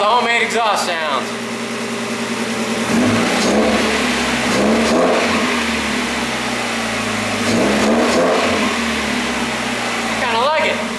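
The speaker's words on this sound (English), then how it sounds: "Let's see how the homemade exhaust sounds." Go-kart engine with a homemade exhaust revs repeatedly in surging bursts, rising and falling close by with a raspy buzz, and people talk briefly at the start and end.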